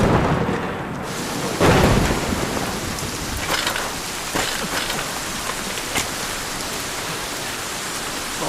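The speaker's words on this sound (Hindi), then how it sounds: "बहुत तेज बारिश हो रही है।" Heavy rain pours steadily in a dense, close hiss while a deep rumble of thunder rolls through early on, the downpour continuing alone to the end.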